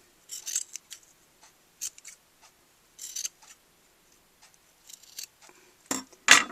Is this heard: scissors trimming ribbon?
yes